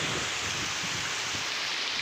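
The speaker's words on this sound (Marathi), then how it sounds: "एवढा पाऊस आहे." Heavy village rain after two days of nonstop downpour, a loud continuous hiss and patter of water pouring over everything, with runoff streaming nearby, unbroken and close throughout.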